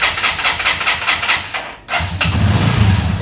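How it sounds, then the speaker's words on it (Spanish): A cold motorcycle engine with a hard-starting problem cranks with rapid mechanical chatter, stumbles briefly, then catches and settles into a loud, rough, continuous idle close by. "Ahí prende porque la moto está prácticamente fría"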